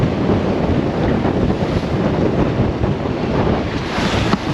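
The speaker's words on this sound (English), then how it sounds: "The wind is back up." Steady wind and choppy sea wash around a sailboat under sail in sloppy, rough water off Fiji, a continuous broadband rush of gusts and breaking chop with no pauses and no voices.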